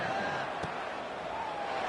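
A stadium crowd at a college football game between Georgia Tech and Pitt keeps up a steady, dense roar and buzz after a score, with one brief sharp thud partway through, all under a play-by-play announcer's voice.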